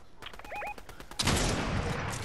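Gunfire from players shooting in a Fortnite Chapter 3 Season 1 trios match, a short burst of close, loud shots giving way to a dense, continuous rush of firing and battle noise.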